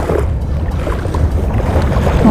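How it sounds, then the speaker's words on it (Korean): Strong wind roars steadily across the microphone at a shoreline fishing spot before dawn, a loud, close, continuous buffeting rumble with no voices. "바람이 지금 꽤 많이 불어요."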